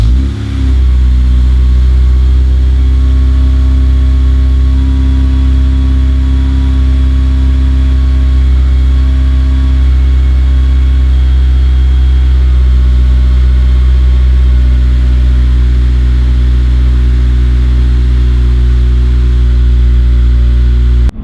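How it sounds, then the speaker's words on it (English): An Acura Integra Type R with a K20a engine, right-hand drive, cold-starts and settles into a loud, steady high idle that holds evenly for about twenty seconds. "It's time for a cold start."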